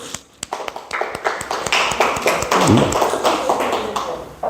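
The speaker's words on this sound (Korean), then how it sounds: "박수." Church congregation applauds, starting with a few scattered claps that quickly build into steady, fairly close clapping that holds for several seconds.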